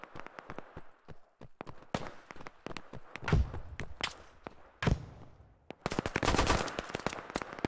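Gunfire in the Operation: Harsh Doorstop military shooter: scattered sharp shots and short bursts, some close and loud, others more distant, ending in a heavy rapid volley with footsteps between.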